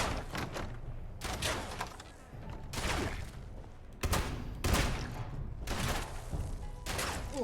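Gunfire in the video game Fallout 76: several bursts of rapid shots in quick succession separated by brief pauses, loud and close, with no talk.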